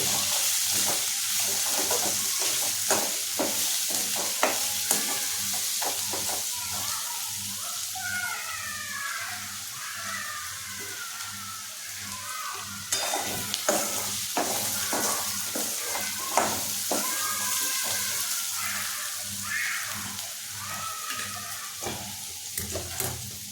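Potato bhaji with turmeric is stirred in a hot pan, a continuous close sizzle with repeated spatula scrapes and taps against the metal, and no voices.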